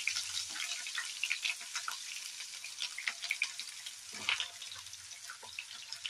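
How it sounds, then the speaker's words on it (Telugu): Ginger garlic paste frying in hot oil for a capsicum masala curry gives a bright, continuous crackling sizzle with small spitting pops, close and fairly loud, with no voices. "అల్లం వెల్లుల్లి పేస్ట్ కొంచెం వేస్తున్నాం ఫ్రెండ్స్."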